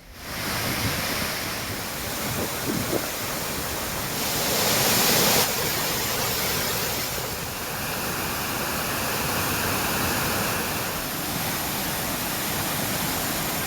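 Thirparappu waterfall roaring steadily, a loud continuous rush of falling water mixed with wind buffeting the microphone, with no voices.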